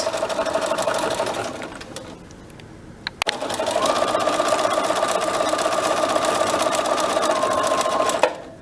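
A sewing machine runs fast and steady after a short lull, its even mechanical whir close and loud for several seconds with no talking over it.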